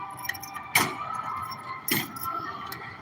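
A ring of keys jangles close by as a newly installed commercial Medeco M4 lock is tested. Two sharp, bright metallic rattles are separated by a short pause over faint background noise.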